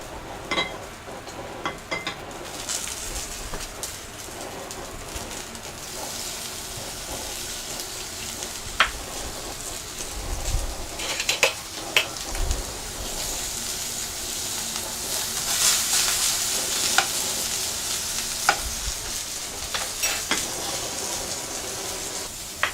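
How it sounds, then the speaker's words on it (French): Oil heats in a frying pan with a soft, continuous sizzle, joined by scattered clinks and scrapes of pans and utensils, low in level with no voices. "On va faire chauffer notre poêle, un peu d'huile."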